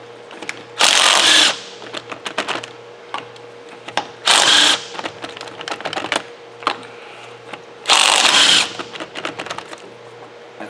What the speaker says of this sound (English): got the Earthquake 3/8 impact here. I'm gonna take this tire off.